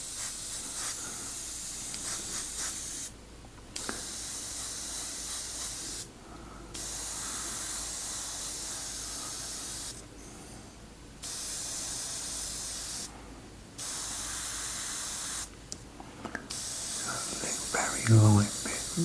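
Steady hissing spray from an airbrush in long bursts separated by brief pauses, close and continuous, with faint handling noise near the end.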